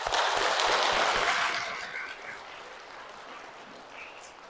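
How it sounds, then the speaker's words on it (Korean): A Catholic church congregation at Baegot parish claps for the women, a loud burst of applause that swells briefly and then thins out and fades, leaving scattered claps and faint murmuring. "여성들, 그래서 박수 한번 쳐주세요."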